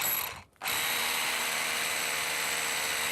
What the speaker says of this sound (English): I'm using my power drill for a more targeted approach.